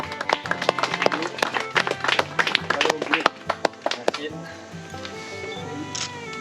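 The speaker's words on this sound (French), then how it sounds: "On peut l'applaudir encore bien fort" At a float-tube predator fishing contest, a small crowd gives the winner a second round of scattered, close clapping that fades out halfway, with a voice talking over it.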